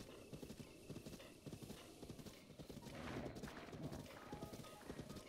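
Horse hooves clip-clop in steady galloping rhythm in the video game The Legend of Zelda: Breath of the Wild, with a neigh and rising intensity midway, continuous and fairly close.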